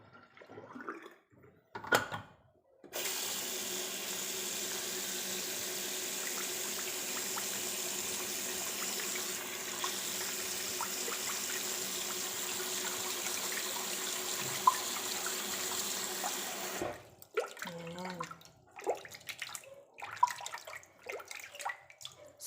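Tap water runs steadily and fairly loud for about fourteen seconds while makeup brushes are rinsed, with brief handling clatter before and after; no talking.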